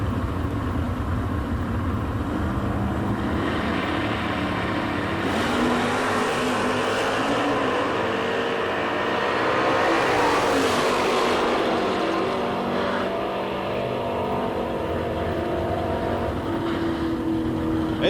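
Drag race cars, including a 1967 Le Mans, launch down the strip at a Sunday sportsman nationals event, loud roaring engines rising and swelling as they accelerate away, continuous for the whole stretch.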